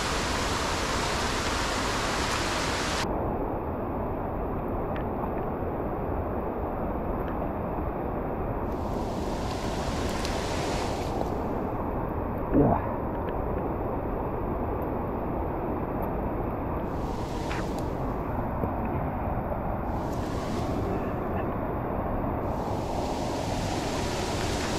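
Rushing water from Ben's Bluff waterfall in the Cockscomb Basin Wildlife Sanctuary forms a constant, dense roar that fills the whole stretch evenly, with no voices.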